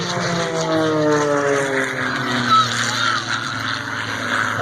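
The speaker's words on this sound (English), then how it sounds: "The engine sounded like it's some Spencer Tracy movie from 2 o'clock in the morning" An MXS aerobatic airplane performs at an air show, its engine a loud, sustained droning roar with harmonic tones gliding downward as it passes overhead, continuous and close.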